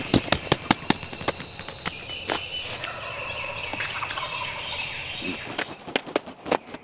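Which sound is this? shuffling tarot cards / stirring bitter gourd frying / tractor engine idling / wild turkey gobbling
wild turkey gobbling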